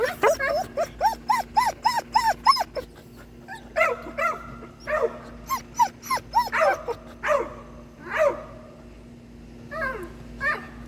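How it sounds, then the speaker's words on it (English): A herding dog whines in rising, high-pitched bursts mixed with short yips and barks, repeated rapidly and close by, with pauses between volleys. "Herding dogs are generally very vocal animals, right?"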